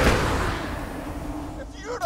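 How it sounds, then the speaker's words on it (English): Pistol gunfire in a shooter video game: a loud, dense burst of shots at the start that fades into a rumbling tail, with a sharp crack near the end. "I'm getting some great practice with this pistol right now"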